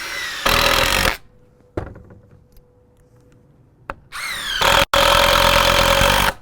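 A DeWalt DCF885 cordless impact driver whirs loudly in a burst of about a second, pauses with a few clicks, then runs again in two longer bursts.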